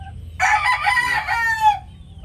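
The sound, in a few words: chickens clucking and rooster crowing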